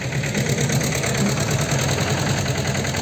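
A tractor engine runs in a farm field, giving a steady, close, rattling drone with a fast mechanical chatter that holds constant throughout.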